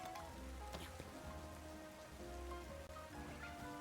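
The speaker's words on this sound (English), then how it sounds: "Oh, there's the rain." Rain falls steadily in a Pokémon video game, a continuous soft patter with droplet ticks under a low rumbling bed, no voices.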